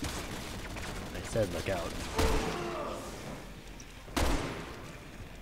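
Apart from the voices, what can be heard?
gunfire in Resident Evil 6 video game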